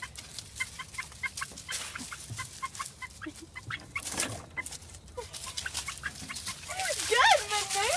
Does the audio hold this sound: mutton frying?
no